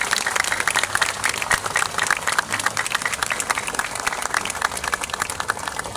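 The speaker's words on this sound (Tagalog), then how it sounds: "Pwede ba palakpakan natin ng pinakamalakas yung palakpak?" A crowd at a Manila ceremony honouring a Tondo police officer, with the mayor present, breaks into sustained clapping, a dense and even wash of many hands that stays close and loud throughout.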